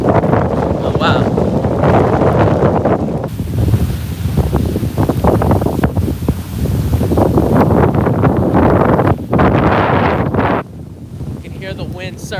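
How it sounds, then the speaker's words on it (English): Strong gusting wind from Typhoon Hagibis in Japan roars and buffets the microphone continuously, loud and broadband, with a voice talking underneath at times. "You can hear the wind."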